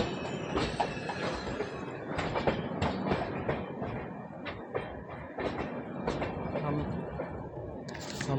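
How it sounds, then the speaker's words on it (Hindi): Malwa SF Express passenger train rolling on rails at Jhansi Junction, with loud, steady clickety-clack of wheels over rail joints and rumbling carriages continuing throughout, a brief squeal near the end. "इस ट्रेन का डिपार्चर हो रहा है।"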